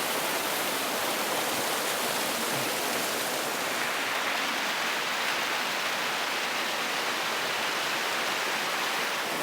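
Waterfall flowing down through a snowy landscape, heard as a constant dense hiss and rush of water that stays even and unbroken, with no voices.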